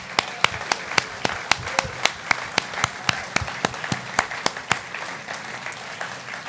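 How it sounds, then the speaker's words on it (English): Applause at a ribbon-cutting event in a university student center: a small group claps close by with crisp, distinct hand claps in a quick, fairly regular rhythm, thinning out and fading over the last second or so. "So let's give a big, big round of applause for the Semsers."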